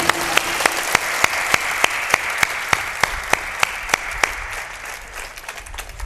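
A crowd at a Hindi motivational talk claps in unison, a loud, rhythmic beat of sharp synchronized claps for about four seconds, then trailing off into looser, fading applause.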